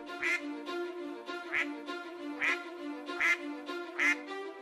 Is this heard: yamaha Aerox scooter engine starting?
no